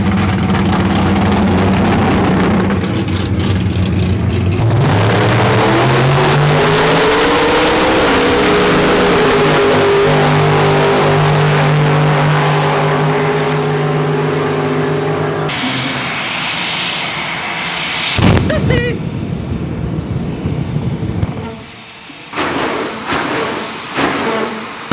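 Drag racing cars at a drag strip thunder off the line: a deafening, continuous engine roar climbs in pitch as the cars accelerate and fade, followed by loud crowd and crackling noise.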